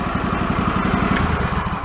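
A John Deere lawn tractor engine idles steadily, a close, continuous low chugging with an even pulse and slight mechanical clatter, running on its own without voices.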